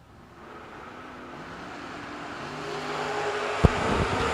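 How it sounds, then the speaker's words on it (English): A Chevrolet S10 and a Pontiac Firebird in a drag race: engine roar builds steadily from distant to loud, with a sharp bang near the end. "The S10 of Biondo taking on the Firebird of Corbin."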